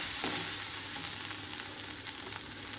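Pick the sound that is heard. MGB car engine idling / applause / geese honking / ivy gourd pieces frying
ivy gourd pieces frying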